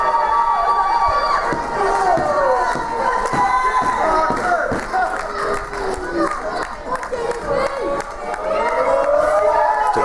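At a PWU professional wrestling event in Belfast, a crowd cheers and shouts continuously. Excited voices rise and fall over steady background noise, and commentary runs over the top.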